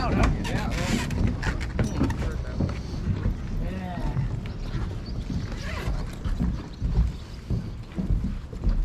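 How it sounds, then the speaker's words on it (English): An express passenger boat passes on the lake near Stehekin, Washington, its engine rumbling with water churning, heard from another boat amid steady wind buffeting the microphone. "That's one of the express boats"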